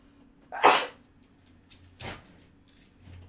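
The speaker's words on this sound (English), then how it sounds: "I feel a sneeze coming" A person sneezes once, sharp and close in a quiet room, followed by a second, softer burst and a faint third sound near the end.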